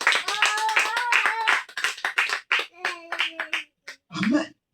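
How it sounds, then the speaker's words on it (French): A church congregation claps together in praise during a French-language service, with a fast, loud, rhythmic burst of many hands under a singing or shouting voice. "Tu peux acclamer le Seigneur ce matin?"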